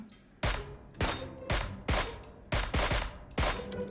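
Gunfire from a buggy in the video game PUBG Mobile: six loud, sharp bursts with ringing tails, spaced irregularly about half a second apart, close and clear with no talking.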